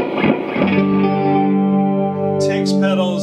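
An electric guitar chord rings out through a Peavey Classic 50 tube amp with real spring reverb, sustaining loudly and decaying with a lush reverb tail, followed by a few scratchy string noises near the end.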